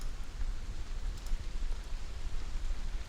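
Rain falls steadily outside, heard from indoors as a continuous, muffled patter and rumble with no break, fairly close and even in loudness.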